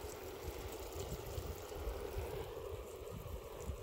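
Water sprays and splashes at an outdoor splash pad, heard as a steady, fairly faint rushing wash with no clear breaks.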